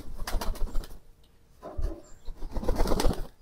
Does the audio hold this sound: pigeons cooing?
yes